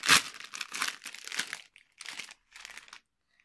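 A Chipicao card packet from a Despicable Me 3 collectible series being torn open up close, with a sharp initial rip followed by several bursts of crinkling foil wrapper, then brief pauses and softer rustles.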